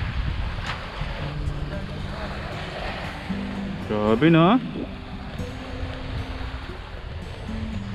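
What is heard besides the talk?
sea waves and wind on a beach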